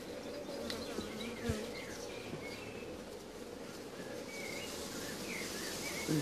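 Honey bees buzz steadily around an open beehive during an inspection, a dense continuous drone that stays close and loud throughout, with a brief knock near the start and no talking.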